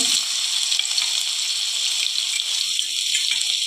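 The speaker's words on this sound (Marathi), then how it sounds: "हे वाटण चांगलं परतून घेऊया" Spice paste sizzles and crackles steadily in hot oil with popped mustard seeds, a close, bright frying hiss with no talking.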